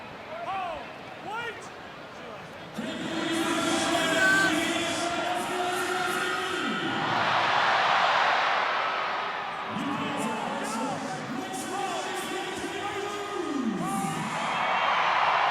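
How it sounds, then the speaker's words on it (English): Loud crowd at a rugby league international, Australia against Samoa, a sustained roar with chanting and singing swelling in waves, heard beneath commentators' speech. "Crowd very loud."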